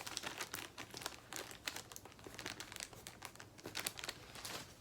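Small paper slips crinkle and rustle as they spill out of a bag, a close, quiet run of irregular crumpling bursts with no voices.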